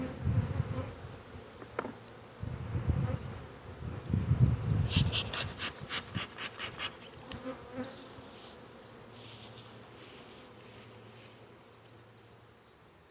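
A honeybee swarm buzzes around a hive being collected and re-queened outdoors, a steady droning hum with passing close wingbeats and bursts of scraping and rattling from hive equipment.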